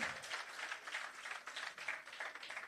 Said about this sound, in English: Give them a hearty round of applause, ladies and gentlemen.